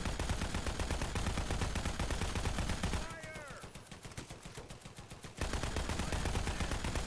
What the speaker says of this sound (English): He's still shooting back there